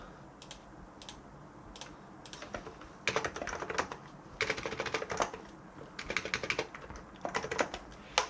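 Keys on a computer keyboard are pressed while working in Revit: scattered single clicks, then several quick bursts of close, crisp typing with short pauses between them.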